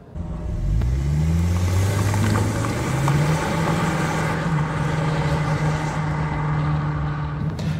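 Skoda Karoq 2.0 TSI petrol SUV from 2023 accelerating hard, its engine note climbing steadily through the gears in a loud, close, continuous pull with no voices.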